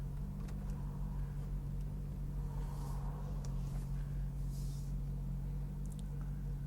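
A warmed-up 2008 Corvette convertible with a six-speed manual sits idling, a steady low droning rumble with a constant hum, even and unchanging, with faint light noises on top.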